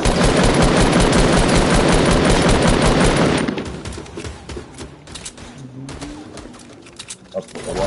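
Rapid automatic gunfire in a first-person shooter video game, a loud continuous burst of shots for about three seconds, then scattered single shots and softer game sounds.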